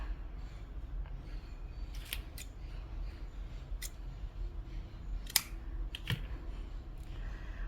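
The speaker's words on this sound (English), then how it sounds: "make a double knot and then cut off the loose ends" Scissors snip off the loose yarn ends of a crochet ruffle mesh beach skirt, a handful of short, sharp clicks spread out over quiet handling noise, close and crisp.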